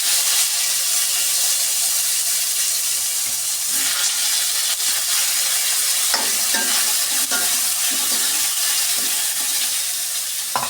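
Mango pieces sizzling steadily in hot oil with mustard seeds for a chutney, a continuous loud frying hiss with occasional spoon stirring clinks and scrapes, no talking.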